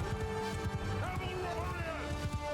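Horses gallop in a Mount & Blade II: Bannerlord battle, a steady drumming of hooves under dense battlefield noise while someone talks throughout.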